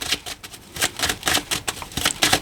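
Cards rustle and slap in quick, irregular bursts as they are handled, drawn and laid out during a card reading, close and fairly loud.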